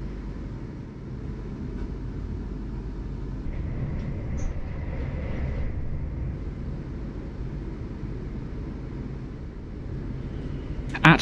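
A passenger train arriving at Liphook station on the Hampshire border, a steady low rumble of the carriages rolling in with a faint squeal near the middle and a sharp clunk at the very end.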